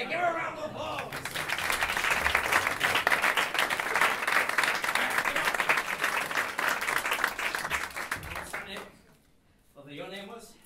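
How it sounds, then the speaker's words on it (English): A theatre audience gives a volunteer woman a loud, sustained round of applause at a comedy magic show, dense clapping that fades out before a voice resumes talking near the end. "Give her a round of applause."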